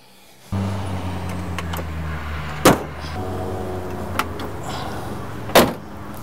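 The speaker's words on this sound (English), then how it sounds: "The window works good. It's nice and smooth, both directions." Side window of a 1966 Ford Mustang Fastback cranked up and down, a smooth, continuous whirring with two sharp thuds where the glass reaches the end of its travel, heard close in a quiet setting.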